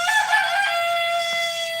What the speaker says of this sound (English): I have good roosters.